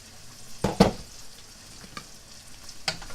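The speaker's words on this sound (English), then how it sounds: "we want to caramelize the onion and the garlic" Onion and garlic caramelizing in a pan for Filipino pork afritada give off a low, soft sizzle, broken by a couple of sharp clattering knocks early on and another near the end.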